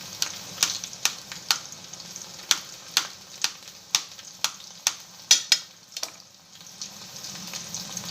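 Potato pieces fry in hot oil seasoned with turmeric and chili powder, giving a steady close sizzle punctuated by regular sharp clinks of a utensil against the pan.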